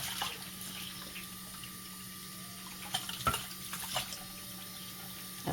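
Tap water running over a fish being washed in a sink, a steady faint splashing stream with a few louder handling splashes.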